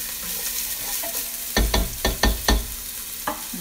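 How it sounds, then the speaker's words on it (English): Onions cook in a pan for chili con carne with a low sizzle, broken midway by several loud, close clacks of a utensil stirring and knocking against the pan. "While I'm waiting for the onions to cook"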